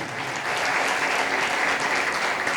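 A congregation at a sermon claps loudly together, a dense and steady burst of applause that fills the room with no talking over it.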